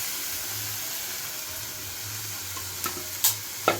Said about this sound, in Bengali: এখন আমি দিয়ে দেব কেটে রাখা মাংসগুলো